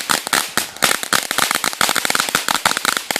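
Fireworks going off in a rapid, dense string of sharp cracking bangs, loud and close, with no gaps or talk throughout.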